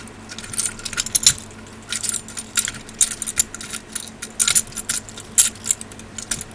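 Metal bolts and washers are handled and threaded onto a Kenpro KR-5400 antenna rotator, giving close, bright metallic clinks and jingles in irregular clusters, loud and alone with no talking.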